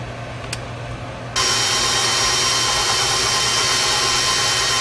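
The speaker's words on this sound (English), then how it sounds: "We're going to beat this pretty good" An electric mixer beats sugar and melted butter into cornbread batter. The motor kicks on abruptly and holds a loud, steady, high-pitched whir close by, after a brief quiet stretch.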